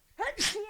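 A single sharp sneeze at close range, a quick inhaled catch followed by a bright, breathy burst, with nothing else around it.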